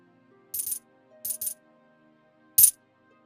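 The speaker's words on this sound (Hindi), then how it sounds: "अरे ये क्या, चांदी के सिक्के?" Silver coins dropping in three short bright clinking bursts, the first two in quick pairs and the last a single sharper chink, each separated by near silence.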